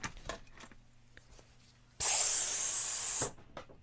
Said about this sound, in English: I have a spray can that doesn't have a motion sensor on it right now